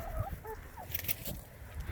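A few soft clucks and low murmuring calls from chickens nearby, quiet and intermittent over faint background noise.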